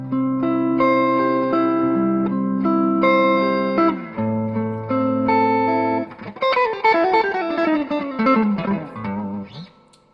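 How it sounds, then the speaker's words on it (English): Electric guitar chords and a descending single-note run through a Roland Cube 80X amp, notes washed in a splashy, lingering spring reverb tail set about halfway. "And this is spring reverb turned about halfway on the end."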